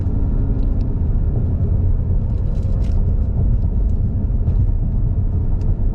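A 2021 Mazda 3 turbo, 250 hp and running premium 91-octane fuel, accelerates in sport mode with paddle shifters, giving a steady, loud engine and road rumble that holds throughout with no talk.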